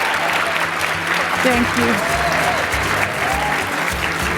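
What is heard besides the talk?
applause for the models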